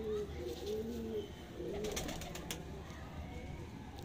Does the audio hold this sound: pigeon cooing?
yes